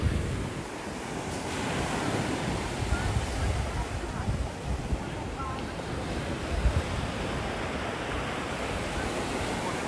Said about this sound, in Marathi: हा एकदम असा कूल शांत बीच आहे